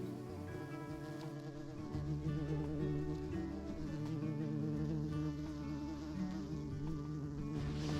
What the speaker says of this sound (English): watching a bee go in and out of his house